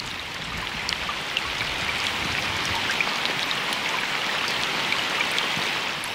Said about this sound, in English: And as the rainstorms continue, the water rises even higher.